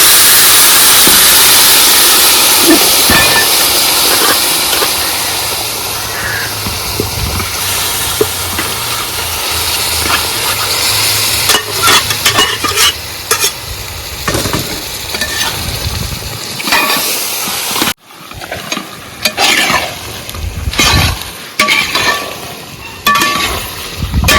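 Precooked pork tipped into a hot pan for a pork roast, a loud continuous sizzle with stirring scrapes and clatter throughout, dropping off sharply near the end into intermittent stirring noises.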